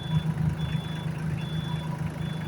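Solis tractor running in gear at low speed, a steady low engine drone with a faint high repeating beep on top, continuous and moderately loud, without speech.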